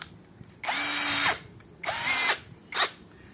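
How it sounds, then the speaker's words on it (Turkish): Cordless drill driving a large screw, three separate whirring bursts, the first two long and the last short, close and loud with quiet gaps between and no talk. "Biz de videolardaki gibi büyük bir vida atalım"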